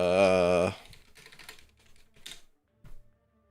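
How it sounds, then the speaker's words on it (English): Brief bursts of computer keyboard typing follow a loud tonal sound at the start, with scattered quiet key clicks and a short pause before a final few taps. "Typing in like Trick, Deadpool"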